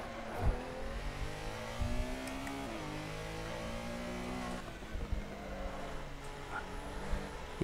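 A Porsche Carrera Cup race car engine in a sim racing game drones steadily with rising and falling revs through gear changes and braking, loud and continuous with no talk.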